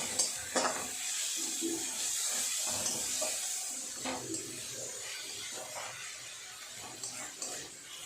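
Onions with ginger and garlic paste fry in a pan, giving a steady sizzling hiss with occasional stirring scrapes, close and moderately loud, with no talk.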